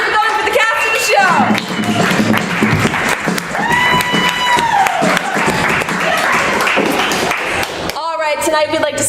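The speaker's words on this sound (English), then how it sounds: "Give yourselves a round of applause and keep it going for the cast of the show." Studio audience clapping for the cast of an improv comedy show, dense and loud applause with cheering, whoops and voices layered over it, ending in a burst of whistling and shouts.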